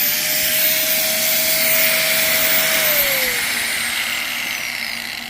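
A loud, continuous high-pitched whine of an angle grinder powered directly from solar panels, spinning in jerks, its pitch dropping partway through as it slows, with no talking.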